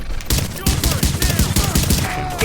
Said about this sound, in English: With all that gunfire drawing the Rikers' attention